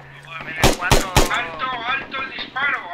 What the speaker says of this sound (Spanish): ¡Que algún gilipollas deje de dispararnos!